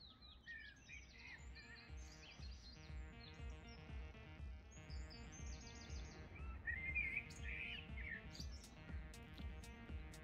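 Small birds chirp and tweet in short bursts outdoors in Ireland, with several calls overlapping over a low background rumble, moderately near and fairly faint.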